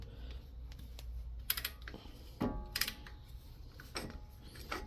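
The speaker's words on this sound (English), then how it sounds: "I have this ratcheting tool that you just go up and down" A ratcheting brake caliper piston compressor is worked on a 2017 Nissan Sentra S, giving scattered light clicks and ticks with irregular spacing, close by, and no one talking.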